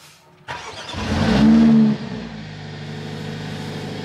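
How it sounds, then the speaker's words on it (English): A Mercedes-AMG A45 S engine cold starts, cranking and firing up, revving loudly for a second before settling into a steady, lower idle hum. "I will obviously also give you a cold start on the A45S"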